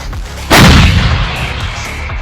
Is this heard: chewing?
no